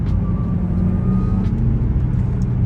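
Modified Audi S4 engine with a sustained, loud low rumble and steady drone, heard close up for a few seconds without talk.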